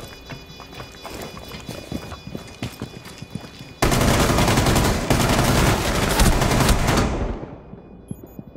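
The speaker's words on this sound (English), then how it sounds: "It's Mira, he's shooting ping." Gunfire in the video game Rainbow Six Siege, a sustained loud rattle of rapid automatic shots with a dense, harsh burst in the middle before cutting off.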